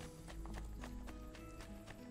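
Horse hooves clip-clop at a walking pace in the video game Assassin's Creed II, a regular series of sharp taps under faint background ambience.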